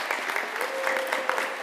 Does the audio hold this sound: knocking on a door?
no